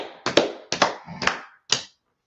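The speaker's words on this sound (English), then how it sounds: "Let's clap it up for Sister Azra" Short burst of clapping for Sister Azra, four quick separate claps, close and sharp, then silence.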